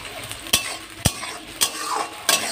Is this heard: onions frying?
yes